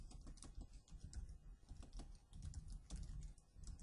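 Rapid typing on a computer keyboard, close and crisp, with irregular clusters of key clacks and brief pauses between bursts.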